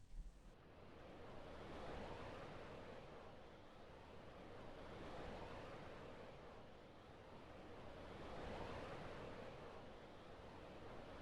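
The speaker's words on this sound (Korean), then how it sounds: "등 뒤로는 끝을 알 수 없는 남태평양의 파도 소리가 아주 느리고 묵직하게 들려옵니다" Slow, heavy South Pacific surf rolls in at night on the coast of Easter Island, with broad swells of washing noise rising and fading about every three seconds, soft and steady with a faint wind hiss.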